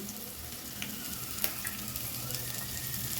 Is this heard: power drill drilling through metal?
no